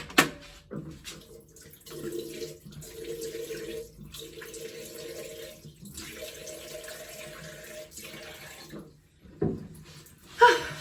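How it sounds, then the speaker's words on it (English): Tap water runs steadily into a bathroom sink while a face is rinsed, with small splashes and brief breaks in the flow, ending in a couple of sharper handling knocks. "And then I just rinse that off. So bear with me. My sink's over here."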